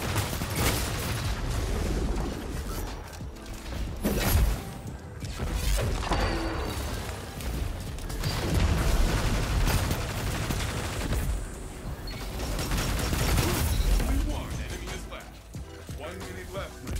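Heavy gunfire mixed with a grenade blast in a Destiny Trials of Osiris match, sustained crackling shots and impacts with a player's voice talking over the fight.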